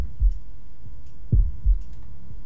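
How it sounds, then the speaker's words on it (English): Heartbeat effect from Shadow of the Tomb Raider, low muffled thumps in lub-dub pairs, three beats spaced about a second apart over a quiet hum. "Why is my controller vibrating every heartbeat?"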